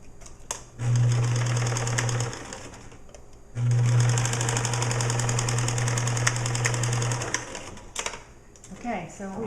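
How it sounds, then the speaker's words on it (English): Sewing machine stitching the shoulder seam of a boy's gown, two loud steady motor runs with a rapid needle chatter separated by a short pause, then light handling sounds. "we've sewn the shoulder seam on the gown for the boys"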